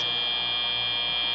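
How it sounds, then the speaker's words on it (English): A match-end buzzer blares at a FIRST robotics district championship, a loud, sustained electronic tone held steady for over a second, with no talk over it. "The buzzer sounds."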